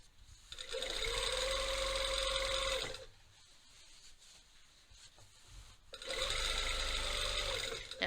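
A sewing machine stitches a long inseam on a pair of jeans in two steady runs of several seconds each, a close mechanical whir and hum with a quieter pause of handling between them.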